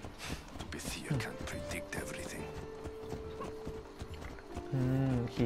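Horse hooves clip-clopping as a rider crosses a wheat field in Assassin's Creed Odyssey, a brisk rhythmic clatter under game music and scattered voices.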